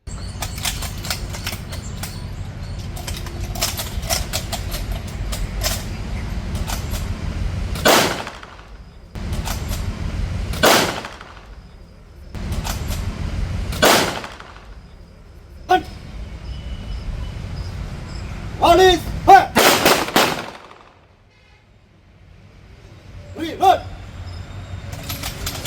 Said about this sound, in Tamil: கட்டுக்கோப்பாக 3 ரவுண்டு துப்பாக்கிச் சூடு நடந்தது